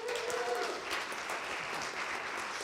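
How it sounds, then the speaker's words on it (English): Church congregation applause during a service, a continuous dense wash of clapping that sounds fairly distant and steady, with a brief vocal tone near the start. "So let's give them a round of applause."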